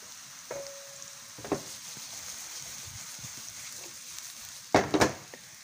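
Porcini mushrooms drop into a pan of hot garlic and oil, giving a soft, quiet sizzle with a few scattered clatters and a sharper burst of crackling near the end.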